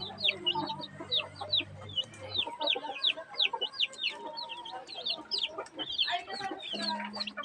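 Incubator-hatched chicks peep in a dense, continuous chorus of bright, repeated high chirps, close by and fairly loud, with a low hum fading out in the first two seconds.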